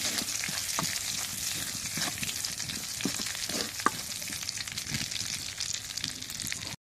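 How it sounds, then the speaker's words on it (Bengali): Cumin seeds and garlic fry in hot oil, a steady crackling sizzle with scattered pops and occasional stirring scrapes, close and continuous with no talk. "এখন জিরাটা আর রসুনটা একটু তেলের মধ্যে ভাজে নিই লাল লাল করে"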